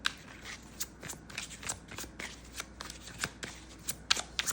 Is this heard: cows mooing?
no